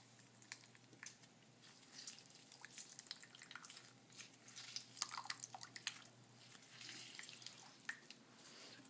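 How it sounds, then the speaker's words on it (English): Juice from two lemons drips and trickles into a Greek egg-lemon soup with meatballs, a faint patter of small liquid drops scattered over several seconds against a quiet kitchen background. "now we will add the juice from 2 lemons"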